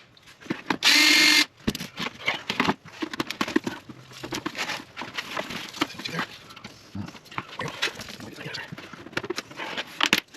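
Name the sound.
screw gun removing screws from Honda EU2200i generator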